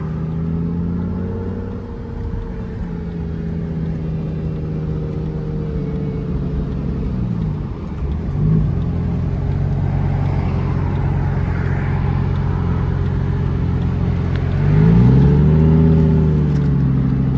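A Lamborghini Gallardo being driven, its engine giving a steady low rumble with a smooth rise in revs near the end, heard from inside the car over continuous road noise.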